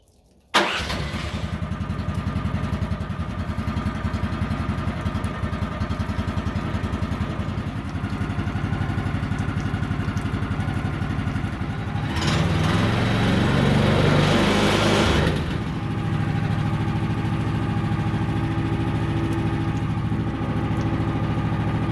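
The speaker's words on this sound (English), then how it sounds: "So I started her up. I gave her a little gas, not too much, just to see that blade turn." A sawmill engine cranks and catches, then runs steadily at idle before a brief rise in revs when given a little gas, settling back to a loud, even drone.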